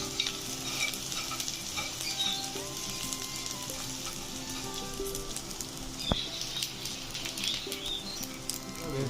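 Dry fruits roast in a pan for laddoos with a soft continuous sizzle, while a spoon stirs and scrapes them in a light irregular patter close by, with a sharp clink partway through.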